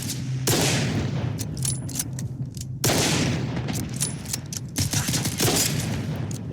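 Sustained gunfire from S.T.A.L.K.E.R. 2 comes as dense automatic volleys, with two loud bursts starting the sequences and continuous rattling shots between them, heard alone without speech.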